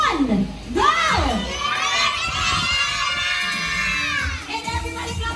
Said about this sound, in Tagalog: We have to shout happy birthday, Ella.